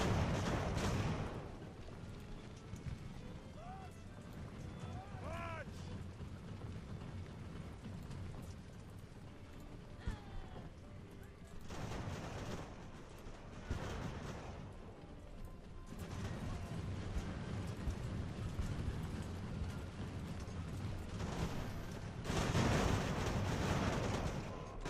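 Artillery and cannon fire in the age-of-sail battle game Ultimate Admiral: Age of Sail, scattered heavy booms breaking over a steady battle din, with louder bursts near the middle and end and hoof-like clatter in between.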